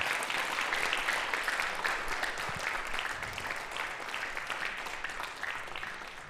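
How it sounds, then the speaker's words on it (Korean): Sustained applause from a church congregation at a Sunday afternoon worship service, dense steady clapping that fills the room and slowly tapers without fading out, no voices over it. "따뜻한 박수로 다시 한번 격려해 주시면 감사하겠습니다."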